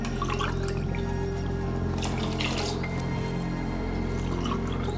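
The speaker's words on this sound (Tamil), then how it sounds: "பால் ஊற்றிக்கிறேன்" Coconut milk pouring into a pot for pulao, a continuous close liquid splashing and trickling under a steady kitchen hum, loud and unbroken throughout.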